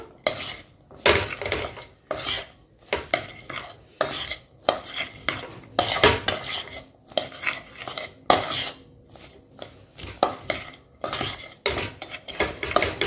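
Puffed makhana stirred through hot jaggery syrup in a pan off the heat, a close, loud run of rhythmic scraping and clattering strokes of a spoon against metal, repeating every second or so with brief pauses between.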